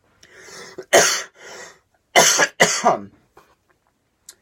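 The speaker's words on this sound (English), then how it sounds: "this cough's never going to leave me alone." Three loud, harsh coughs, one single then a close pair, followed by a few faint breaths; no speech.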